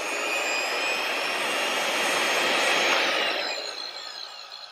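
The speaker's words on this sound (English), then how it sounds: "start the auto grind" An Ultima Autogrind machine grinds a tungsten electrode with a loud, steady high-pitched whine and hiss that holds for several seconds, then starts to wind down and fade near the end. No one speaks.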